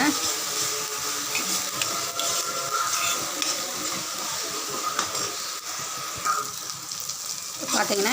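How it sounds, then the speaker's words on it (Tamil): A paste of ginger, garlic and onion sizzles and fries steadily in a pan for a chicken gravy, with a continuous close crackle and occasional scraping stirs. "இஞ்சி பூண்டு வெங்காயம் விழுது இது எல்லாத்தையுமே சேர்த்து நம்ம நல்லா வணக்கிக்கலாம்"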